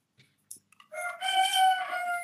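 A rooster crows in one long, drawn-out call, loud and clear, preceded by a few faint scattered clicks.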